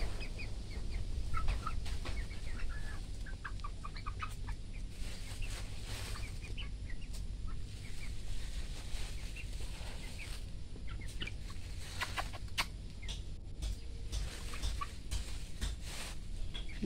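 Chinese black chickens clucking and chattering in a busy coop, with soft scratching and rustling underneath and a steady background hum throughout.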